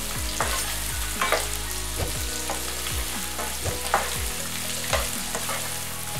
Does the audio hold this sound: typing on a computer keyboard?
no